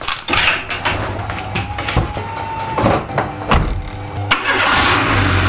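A Renault Twingo with an ABS warning fault, heard from inside the car: a few clicks and thumps, then the engine catches and settles into a loud, steady idle.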